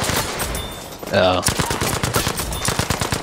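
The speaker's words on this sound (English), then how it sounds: "It's an American rifle. Or machine gun." A Browning machine gun in Battlefield V fires a rapid burst of evenly spaced shots from about a second onward, fairly close, with a short spoken exclamation and background game noise.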